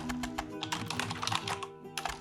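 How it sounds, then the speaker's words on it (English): Keyboard typing in the mystery game The Roottrees are Dead: a steady run of quick, close key clicks for about two seconds with a brief pause near the end, heard over a low background music bed. "Ah, good typing."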